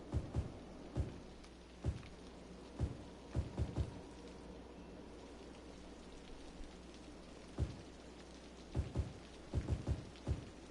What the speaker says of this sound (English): It's about to start raining. I hears it.